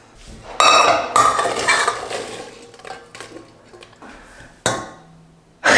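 A saucepan and metal utensils clink and clatter in a home kitchen while apples are being prepared, with bursts of loud rattling contact, quieter scraping between them and a final sharp clatter; no one talks.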